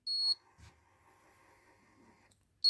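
A STELLAR digital safe keypad gives a single clear high-pitched electronic beep when C is pressed, followed by a short clunk and faint mechanical hum, then another beep starts at the end.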